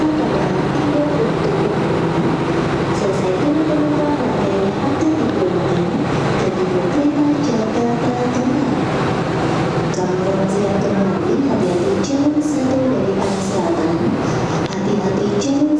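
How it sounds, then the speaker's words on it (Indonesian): Argo Lawu train pulling in to platform 3 at Jakarta Kota station, a steady rumbling rail roar with wheel and carriage noise filling the whole stretch, station voices murmuring underneath. "Dan ini Argo Lawu nanti akan masuk jalur 3 dari stasiun Jakarta Kota."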